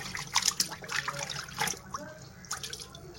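A pan is washed under running water, with soft, close splashing and dribbling in uneven bursts.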